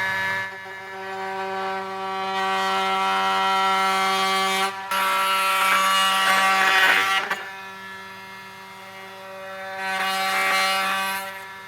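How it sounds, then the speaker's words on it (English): Oscillating multi-cutting tool trimming a metal alignment pin during a trailer hitch install on a 2025 Hyundai Palisade, a loud buzzing whine in several long bursts with brief pauses between them. "So I have my multi-cutting tool."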